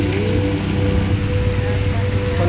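Steady, loud rain pours down at a street vendor's stall, a dense continuous hiss of drops drumming on surfaces with no breaks.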